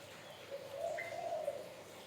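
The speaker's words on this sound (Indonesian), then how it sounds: "Itu yang lagi bunyi si kuku" A six-year-old pet spotted dove (tekukur) gives one soft, drawn-out coo, fairly faint against a steady background hiss.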